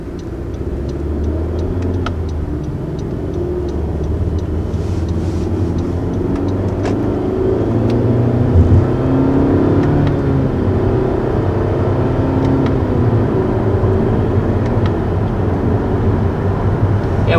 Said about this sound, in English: When you go start shifting with the paddles, they actually let you rev it out a little bit